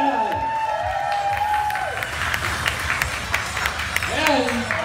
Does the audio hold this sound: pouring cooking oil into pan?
no